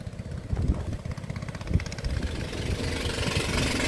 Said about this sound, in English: You can hear me over the noisy boat that's just coming through.